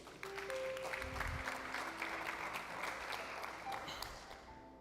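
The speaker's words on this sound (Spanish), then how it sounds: "Dale un aplauso a Dios." Church congregation applauding during a Spanish-language sermon: a sustained, fairly soft wash of clapping with some sustained tones from instruments or a keyboard beneath it.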